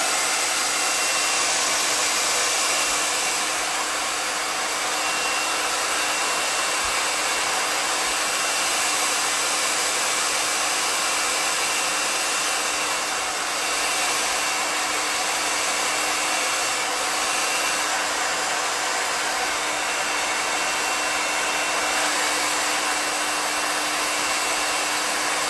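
A hair dryer blows steadily and closely on chalk paste, a constant loud airy whir with no breaks and no talking.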